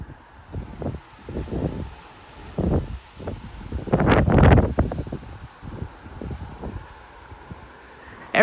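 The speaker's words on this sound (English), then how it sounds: "Every time the wind blows through my dead tree, I can feel it vibrating." Strong wind gusts buffet a dead tree in Frisco, Texas, as uneven surges of blustery rushing and microphone buffeting that swell to a peak midway, then ease off.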